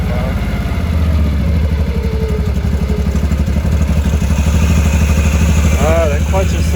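A 2013 Can-Am Maverick side-by-side idles loudly, its noisy primary clutch making a steady mechanical clatter throughout, a voice speaking briefly over it near the end.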